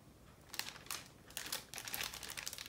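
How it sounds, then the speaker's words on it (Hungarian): Plastic bag crinkling as it is opened from an unboxing kit, in several short bursts of rustling close by, faint overall with no talk. "Zacskó."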